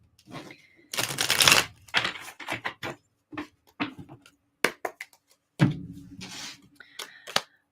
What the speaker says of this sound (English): Just got to shuffle the cards real quick.